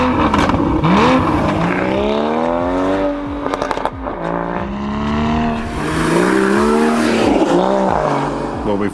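Porsche Boxster GTS 981 sports car engine revving loudly and continuously, pitch sweeping up and down through repeated acceleration pulls and gear changes, close and dominant throughout with no talk.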